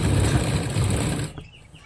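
A sewing machine runs steadily, stitching a zip onto a churidar in a tailor's shop, a loud continuous mechanical whir that stops abruptly near the end.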